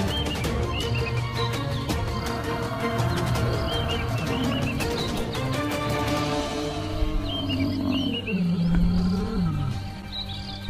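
Lions hunting buffalo give deep roars and growls that build toward the end, with one long, falling groan at the close. Bird calls chirp faintly in the background.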